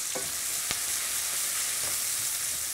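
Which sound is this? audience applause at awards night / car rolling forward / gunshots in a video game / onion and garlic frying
onion and garlic frying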